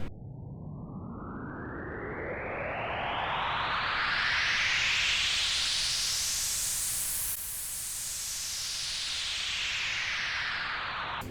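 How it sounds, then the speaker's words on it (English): An uplifter riser effect in a bass house breakdown: a noise sweep climbing steadily in pitch and brightness, then a reversed falling sweep after the midpoint, smooth, hissy and fairly quiet, with no talk. "And then we've got another uplifter."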